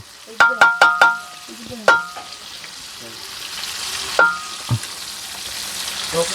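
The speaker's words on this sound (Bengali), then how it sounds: "এই মাছ এগুলো সব ভাজি করব" Fish frying in a pan at home, a soft continuous sizzle broken by several sharp metallic clinks and knocks of a utensil against the pan, close and fairly loud.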